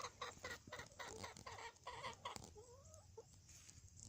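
Chickens cluck softly in a backyard garden, a quiet, close series of short clucks and murmurs with one rising call near the end, with no one speaking.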